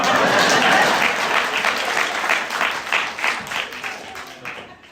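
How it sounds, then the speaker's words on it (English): A comedy show audience breaks into applause, a dense burst of clapping that starts loud and slowly thins and fades over a few seconds. "Unsolicited applause breaks."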